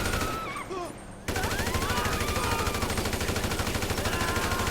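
AK-47 automatic fire in GTA V, loud rapid bursts of gunshots in a continuous fusillade after a brief quieter opening with game sounds.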